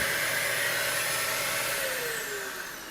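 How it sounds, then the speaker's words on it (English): Vacuum cleaner running steadily while dust is cleaned out of a PS4 console, a loud continuous whine with a sustained tone that dips slightly in pitch near the end, with no talking. "man the vacuum and run the spray air"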